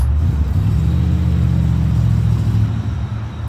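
A Chevrolet Vega's engine rumbles steadily from inside the car during a drive, a loud low drone holding even throughout with a slight dip near the end.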